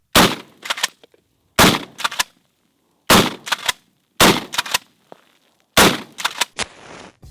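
Five loud, close blasts from a Kel Tec KSG12 pump-action shotgun, each followed by the clatter of the pump being worked, spaced about a second and a half apart with silence between.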